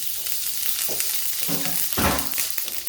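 Lamb sizzles loudly in a die-cast frying pan, a dense continuous frying crackle with a few bursts of stirring and scraping, close and without talk.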